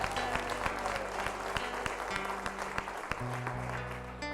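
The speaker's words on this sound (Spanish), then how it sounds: "Un fuerte aplauso al Todopoderoso" Church congregation applauding, dense steady clapping over sustained organ or keyboard chords, with loud crowd noise filling the space throughout.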